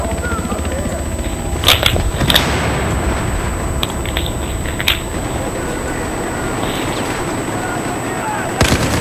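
Bombing and gunfire from a video game battle form a dense, rumbling wall of noise with a few sharp shots cracking through and faint voices mixed in.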